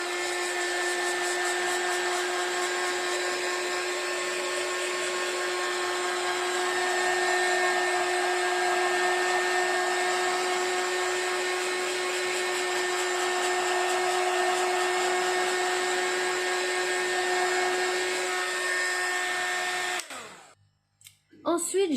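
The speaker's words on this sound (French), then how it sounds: "je vais prendre mon heat gun pour faire chauffer, sécher mon encre" A steady, loud mechanical whir of a heat gun blowing hot air to dry ink on a card, running continuously for about twenty seconds before cutting off abruptly.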